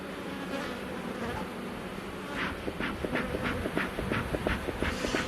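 Bees buzz around a beehive kept by a beekeeper. A low steady hum swells in the second half into repeated, louder buzzing passes close by, with no talking.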